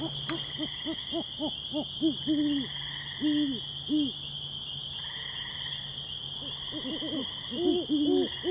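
An owl hoots repeatedly at an artificial nest box in a wooded setting, soft rhythmic paired calls in bursts over a steady high insect or frog drone.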